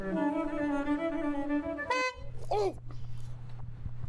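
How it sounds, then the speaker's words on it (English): A car horn honks in a long sustained blast lasting about two seconds, then cuts off, followed by a quieter low hum and a brief rising tone, set at a drive-thru. "And then the guy honks at him."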